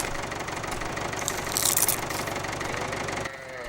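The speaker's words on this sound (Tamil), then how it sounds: "ஏய் இன்ஜின் ஆஃப் பண்ணிடாதடா, அப்புறம் தள்ளித்தான் ஸ்டார்ட் பண்ணணும்" A vehicle engine is left idling with a steady, low, rhythmic chug that stays close and loud throughout. A brief hiss rises in the middle, and the engine note thins just before the end.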